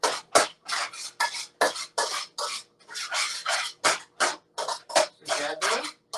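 Ground turkey with Szechuan seasoning is mixed close up, giving a rhythmic series of short scraping, rasping strokes in a pan with brief pauses between them, and no talking.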